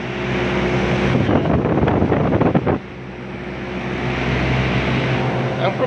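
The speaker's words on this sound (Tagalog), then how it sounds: "Tapos yung condenser mga trupa maandar" An air conditioner's outdoor condenser unit runs with a steady, loud whooshing roar and a low tonal hum, broken by a short burst of rattling clatter partway through.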